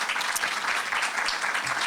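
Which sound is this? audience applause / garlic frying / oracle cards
audience applause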